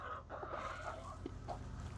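Homestead hens cluck and murmur softly at close range, with short, irregular calls over a steady low barnyard hum.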